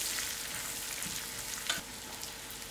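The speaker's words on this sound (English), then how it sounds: "In goes my masalas to fry out a little" Masalas frying in a pan for a dried fish chutney give a steady, close sizzle and hiss throughout, with one brief stir or clink partway through.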